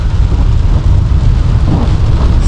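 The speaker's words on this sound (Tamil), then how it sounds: "மழை வெளுத்து கட்டுறாங்க." Heavy rain pours over a Maruti Suzuki Brezza on a road trip from Chennai to Goa, a dense, steady roar of water drumming on the car with a low rumble beneath, constant and loud throughout.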